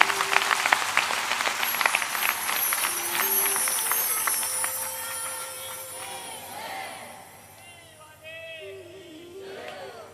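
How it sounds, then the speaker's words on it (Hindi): An audience at a Hindi religious discourse claps loudly and rapidly at first, then the applause thins and fades, with scattered voices and a man's speech coming in toward the end. "ताली में थोड़ी दम ज्यादा है।"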